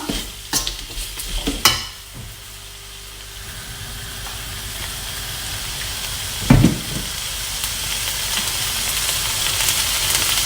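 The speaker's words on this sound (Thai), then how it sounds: "เราจะผัดแบบแห้งๆนะคะ ให้เขาออก หวานเค็มนะคะ เค็มๆหวานๆนะคะ เราก็จะผัดให้ แครอทนะคะ นุ่มตัวลงนิดนึงเนาะ" Pork cracklings stir-fried dry with chili paste and carrots in a hot pan, a steady sizzle and hiss running throughout, with a few sharp spatula scrapes and clanks near the start and one louder knock midway.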